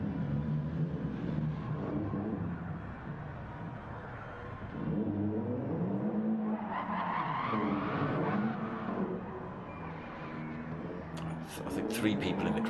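Race car tires skid and squeal through repeated J-turns in a racing video game at Willow Springs, with engine revving swelling and fading under steady talk.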